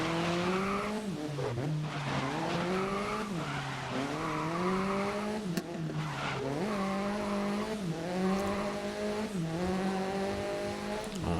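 A race car in GRID (2019) roars along with a loud, continuous engine whine that repeatedly rises and drops through gear changes, with tire squeal mixed in and no talking.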